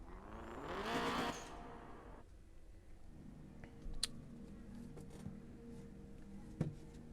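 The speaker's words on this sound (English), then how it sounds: "Shows you a little cool cutscene of you getting in your car and driving out." In the Night Runners video game, a car pulls out of a garage during a cutscene. A rising engine surge leads off, then the sound drops to a low idle-like hum with scattered clicks and thumps.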